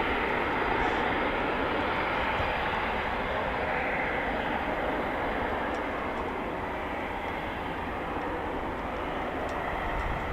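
RAF Eurofighter Typhoon FGR4 jets return to RAF Coningsby during evening flying, a sustained distant broadband jet roar that stays even for about ten seconds.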